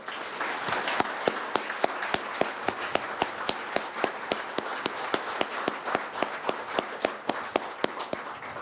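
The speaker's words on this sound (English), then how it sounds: "give them one big round of applause as a group" Steady applause from an audience at a fire and EMS awards ceremony, with dense clapping and sharp individual claps standing out in a regular rhythm throughout.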